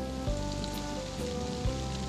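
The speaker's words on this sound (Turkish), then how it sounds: "Babaanne, bak yağmur başladı." Rain starts falling in a Turkish children's cartoon, a steady hiss of drops on surfaces with a faint background tone and a couple of soft low thumps, no voices.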